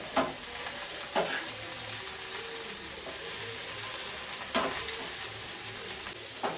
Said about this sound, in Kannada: ನಾನು ಚೆನ್ನಾಗಿ ತೊಳೆದು ಇಟ್ಕೊಂಡಿದ್ದೀನಿ 3 ಸೊಪ್ಪು. ಚೆನ್ನಾಗಿ ಹುರ್ಕೋತೀನಿ.